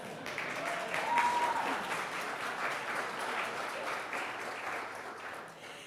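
Guests applaud during wedding toasts, a steady wash of many hands clapping that holds for several seconds and slowly fades, heard from within a room without anyone speaking over it.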